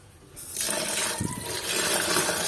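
Water pours and gushes steadily over fermented sorghum grains as they are rinsed, a continuous close splashing flow starting abruptly after a brief quiet moment and running without pause.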